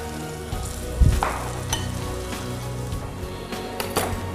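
Tomato, squash and other vegetables for a soup sizzle and fry steadily in a pan, a constant close crackle with a soft clatter of stirring partway through.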